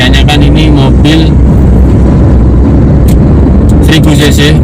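A 2001 Hyundai Atoz with a 1000cc four-cylinder engine accelerates, its steady low engine drone building beneath a voice talking over it.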